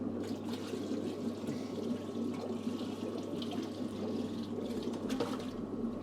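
Steady splashing and trickling of water being poured into a fish tank along with adult zebra plecos, continuous and fairly close, with no voices.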